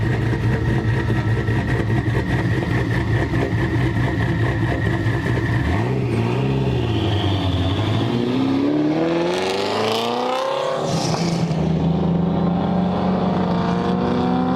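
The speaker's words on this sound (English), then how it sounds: "Nothing sounds better than a Camlope with turbos through it." A turbocharged drag car with a lopey, choppy cam idles loudly, then revs up in a rising sweep and drops back to its uneven idle, close to the microphone with no talking.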